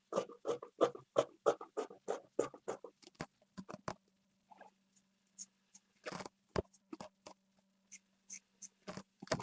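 Scissors cutting out fabric for a baby girl's dress, close crisp snips in quick runs at first, then slower scattered cuts, faint and with a low steady hum beneath.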